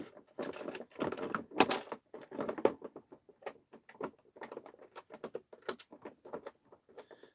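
Scissors snipping twist ties on toy packaging for Super7 Ultimates figures, a rapid irregular series of close, crisp clicks and small snaps with brief pauses, no talk.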